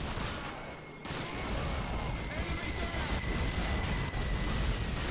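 Call of Duty 2 battle gunfire on Xbox 360, a dense, continuous roar of rifle and artillery fire that cuts in abruptly after a quieter first second and stays loud to the end.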